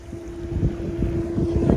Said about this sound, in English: Another jet boat.